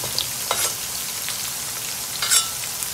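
Vegetable chow mein with basil sizzles and fries steadily in a pan, with a few brief stirring scrapes and clinks standing out over the constant crackle.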